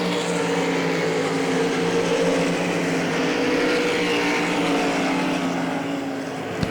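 Race cars roaring around the dirt oval at Hagerstown Speedway during a race, a steady loud wash of engines heard at a distance with overlapping droning tones that persist throughout.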